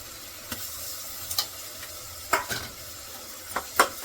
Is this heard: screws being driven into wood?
no